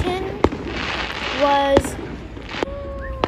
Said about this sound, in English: keep watching the fireworks and enjoy!